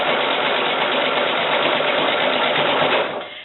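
A sewing machine chain stitches pieces along a marked line, a fast, steady mechanical whirring drone running loud and close without a break, then easing off as it slows in the last half second.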